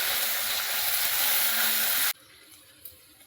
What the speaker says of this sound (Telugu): అల్లం వెల్లుల్లిపాయ పేస్ట్ పచ్చివాసన పోయేంత వరకు ఫ్రై చేయాలండి